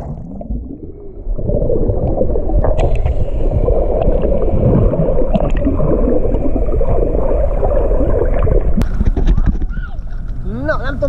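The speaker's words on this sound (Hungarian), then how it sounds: "Beúszunk egyet a víz alá." Muffled underwater sound of swimming beneath a boat in very salty sea water with a GoPro Hero Session 5, a steady churning, bubbling rush filling the clip after a brief moment of air at the start.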